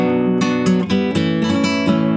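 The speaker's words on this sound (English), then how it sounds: "The rhythm of the song is like a rumba or a bolero." Guitar strums a rumba or bolero rhythm, with bright repeated strokes in a steady syncopated pattern, close and loud, no voices.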